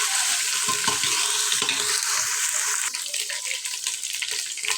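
Ginger-garlic paste sizzles loudly in hot oil, a dense, steady frying hiss up close with faint stirring, no voices.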